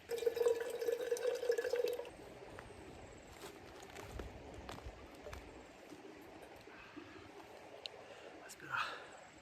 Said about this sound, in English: I'll get some fresh water from the river here and fill up the drink bottles.